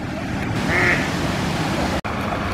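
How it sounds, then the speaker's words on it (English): A duck quacks once amid steady outdoor park background noise, followed by a brief sharp click near the end. "all the ducks lately do seem very hungry"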